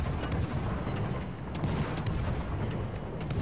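Naval ship guns firing in World of Warships: Legends against a Hipper cruiser, a steady low roar of distant booms with a few sharper reports scattered across it, with no voices.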